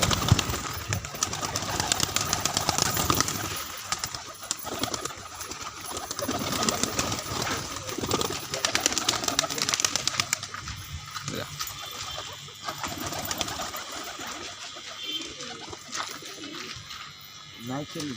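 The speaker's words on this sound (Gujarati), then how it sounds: "કબૂતર છે આ" Pigeons on a rooftop in Bhavnagar give soft coos and flutter among steady background noise, with people talking over them for much of the time.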